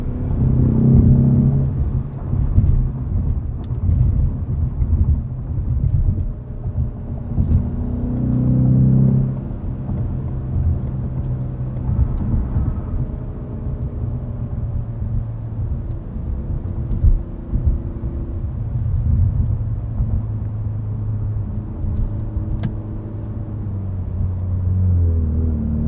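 A 2020 Ford Mustang EcoBoost High Performance Package being driven, its engine a steady low rumble with swelling revs and shifts heard from inside the cabin, continuous and fairly loud.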